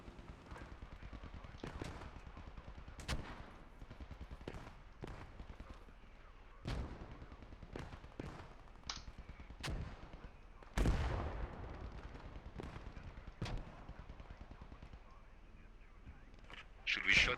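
Mortar and gun fire in the World War II game Post Scriptum, repeated sharp booms and cracks at irregular intervals, some near and loud, others distant, with radio voices talking between them.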